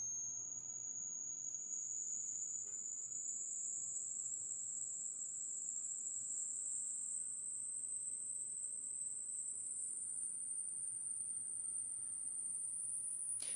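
A steady high-pitched hearing test tone whines continuously and slowly rises in pitch over about thirteen seconds, faint and alone with no other sounds.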